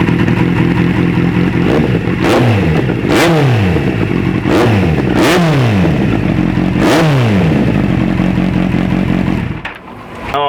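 A loud motorcycle exhaust revs repeatedly, each blip of the throttle rising sharply then falling back to a rough, booming idle, close up and unmuffled.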